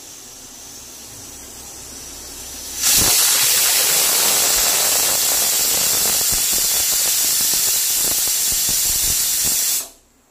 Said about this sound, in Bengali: সবে শুরু হলো মাংসের সিটি।